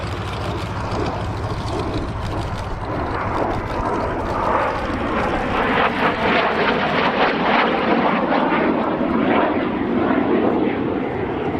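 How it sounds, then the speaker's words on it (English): Canada-built F-86 Sabre Mk.6 jet in an airshow flying display, a loud continuous jet roar that swells and rumbles as it passes, with a commentator talking over it. "This machine is a Canada-built Sabre Mk.6."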